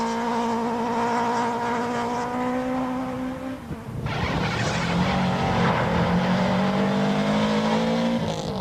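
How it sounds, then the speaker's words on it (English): Rally car on the final stage at Subaru Riverbank in a 2001 mountain trail event, engine screaming loud and steady, a sharp gear change midway, then surging hard again with high revving under continuous roar. "Damso completes the stage in 6 minutes 15 as Habig blasts off the line"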